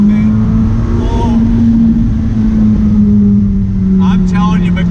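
A 2019 McLaren 600LT with a DCT gearbox pulls hard, its engine drone rising steadily while a steady low hum fills the cabin, with brief gear shifts and a short voice near the end.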